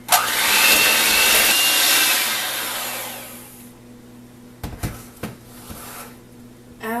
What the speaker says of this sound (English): Now we've got our whisk attachment. We're going to start off at medium-high speed and gradually reduce it as it thickens up.